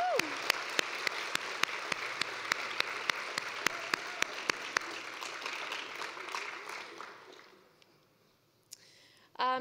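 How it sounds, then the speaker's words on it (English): Conference audience at a literacy research association gathering gives a round of applause, dense clapping with a regular sharp tapping on top, fading out over several seconds before a brief noise near the end. "Please join me now in a round of applause for that."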